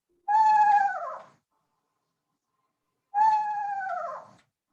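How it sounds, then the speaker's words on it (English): An eastern screech owl gives two wavering, descending whinny calls, each about a second long, separated by a few seconds of silence. The calls sound clear and fairly close, with no other sounds. "That's the call of the eastern screech owl."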